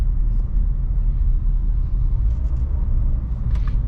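A Renault Duster Iconic 1.3 TCe running on ethanol rolls over a potholed road, heard from inside the cabin as a steady low rumble with a few faint knocks from the suspension and no talk.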